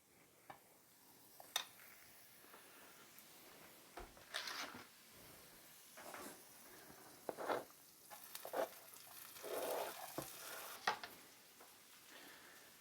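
A touch of oil and a dollop of butter crackle in a frying pan, faint scattered pops and soft sizzling bursts with quiet clinks, close but low in level, no talking.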